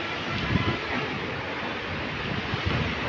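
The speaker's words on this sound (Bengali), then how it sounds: "প্রচুর স্রোত, প্রচুর ঢেউ" Strong current and waves on the muddy Teesta river in northern Bangladesh near an old railway bridge, a steady rushing wash of water mixed with wind buffeting the microphone.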